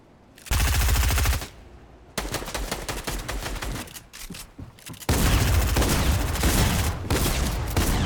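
Gunfire in a Fortnite arena solo match, loud rapid bursts of automatic shots and single cracks overlapping, nearly continuous and close, with brief gaps between volleys.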